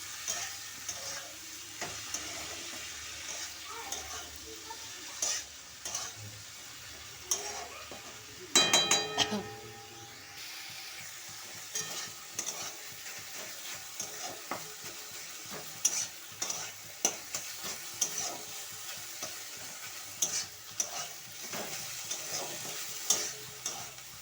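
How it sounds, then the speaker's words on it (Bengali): Fenugreek greens fry in a pan with a steady, fairly quiet sizzle and frequent spatula scrapes and taps, including a louder rattling burst partway through. "এবার মেথির শাকগুলো দিয়ে দিচ্ছি"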